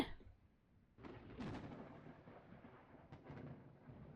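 A wall being knocked down in the game Pharmacy Simulator: a quiet, deep rumbling crash rises about a second in and trails off slowly, with a couple of softer knocks near the end.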